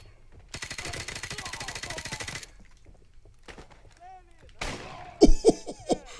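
Gunfire in Call of Duty: Modern Warfare Remastered: a long rapid automatic burst, then a quieter stretch with faint tones, ending in several loud, sharp close shots. Some game sounds run under it.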